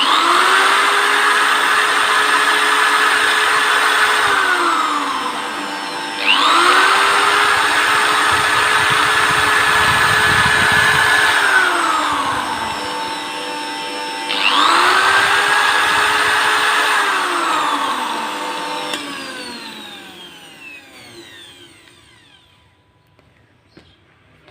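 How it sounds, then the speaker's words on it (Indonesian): An electric drill powered by a homemade inverter whirs in three long bursts, its motor pitch climbing and dropping with each run, over a steady mechanical hum. "Terus kita nyalakan bor."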